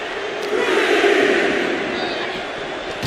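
Arena crowd roaring at a wrestling show in WWE 2K25, a steady loud swell of cheering and shouting that peaks in the middle and eases off, with a sharp thud near the end.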